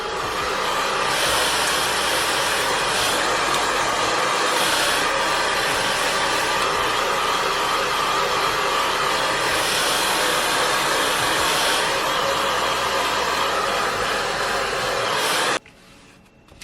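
A hair dryer blows on sprayed hair being dried on a wig install, giving a loud, steady, close whooshing roar that shifts slightly in pitch as it moves, then cuts off abruptly near the end.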